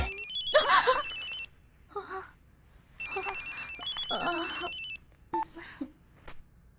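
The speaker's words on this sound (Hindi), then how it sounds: "कब से फोन रिंग हो रहा है, उठा क्यों नहीं रही थी?" A telephone rings in repeated electronic bursts with short pauses between them, fairly close and clear over a quiet background.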